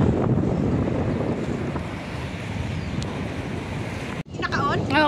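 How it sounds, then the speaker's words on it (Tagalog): Sea waves wash steadily against the shore on a hiking trip, a loud continuous surf roar mixed with wind buffeting the microphone, ending in a brief rustle of handling noise. "Tabi ng dagat. Ayan oh, dagat to."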